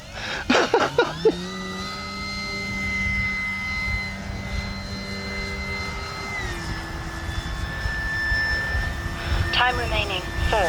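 A Flex Innovations RV-8 G2 Blue Knight RC plane flies overhead with a sustained high engine whine whose pitch holds steady and then drops as it passes, with a few sharp bursts at the start and voices talking underneath.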